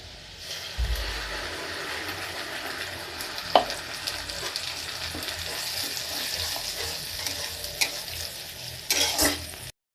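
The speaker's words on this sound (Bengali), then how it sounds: "পেঁয়াজ ভাজা হয়ে গেছে এবার দিয়ে দেবো এর ভিতর বিলিন করে নেওয়া মশলা" Fried onions sizzle in a pan with spice paste for a goat meat curry, a continuous hiss broken by scraping stirs and a louder clatter near the end.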